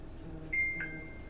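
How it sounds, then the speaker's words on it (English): A phone notification chime goes off in a room during a pub-style philosophy discussion, a short two-part tonal beep lasting under a second, moderately clear over a low background hum with no talk. "That was my phone. I didn't turn my sounds off."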